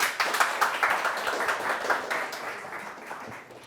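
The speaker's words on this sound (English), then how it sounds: "Another round of applause for our winners." Clapping for award winners at a pitch competition ceremony starts brisk and moderately loud, then thins out and fades over a few seconds.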